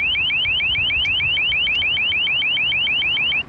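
A long range acoustic device (LRAD) blaring a rapid repeating rising chirp, about six sweeps per second, extremely loud and harsh, cutting off abruptly at the end.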